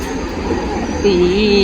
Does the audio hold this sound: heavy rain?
no